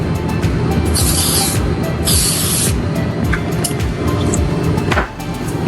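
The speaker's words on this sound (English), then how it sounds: "And then I'm gonna spray some" Two short hissing bursts from a green food color spray can, each lasting under a second, close by over a steady background rumble.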